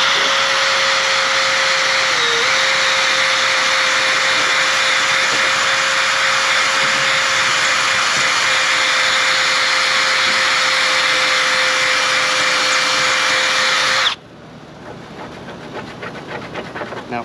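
An eraser wheel on a power tool strips adhesive from the paint of an ND Miata. It makes a loud, constant high whine with a steady pitch for about fourteen seconds, then cuts off abruptly and leaves a faint rattle.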